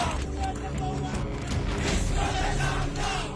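A mob of radicals armed with sticks marches through the streets of Chittagong, chanting slogans in a dense, loud, continuous crowd roar with shouted voices that swell and persist throughout.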